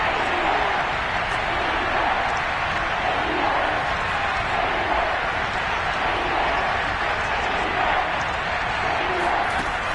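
Kansas City stadium crowd noise at a football game, a dense, steady roar of many voices that stays loud and unbroken throughout, with no clear individual words.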